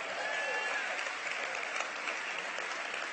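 Audience clapping hands at a city celebration event, a dense, steady roar of applause from a large crowd that holds evenly loud and close throughout without a break.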